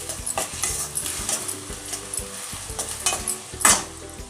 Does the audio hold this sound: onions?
yes